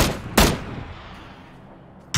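Two sharp, loud gunshots from the PUBG battle royale game crack out, one early and one at the end, separated by a quiet fading tail.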